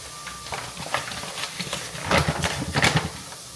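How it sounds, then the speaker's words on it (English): Spices cooking in a pan for a few minutes, giving a soft sizzle and hiss with light scraping and stirring bursts that grow a bit louder near the end. "I'm gonna let these spices just cook for a few minutes."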